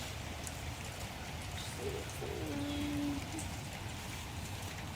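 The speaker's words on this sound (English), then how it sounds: "It's raining." Rain falls outdoors during tree planting, a dense, even hiss of drops that runs steadily throughout, with a faint low animal call rising briefly in the middle.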